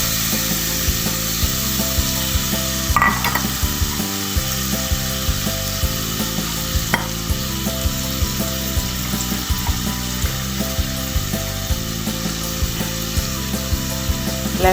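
Thinly sliced onions fry in a pan for a fish curry, with repeated scraping and clicking from stirring over a steady background sizzle, close by and without talk.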